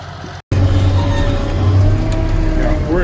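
A John Deere 648H skidder engine lugs in 4th gear while dragging a big load of river-bottom ash and sycamore logs, a loud, steady low drone continuing after a brief dropout.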